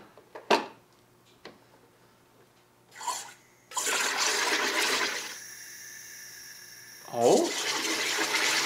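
A SodaStream carbonating milk makes a loud, sustained hiss of gas forced in, with a short burst first and a bubbling surge near the end as the milk foams over. A brief spoken exclamation comes in between.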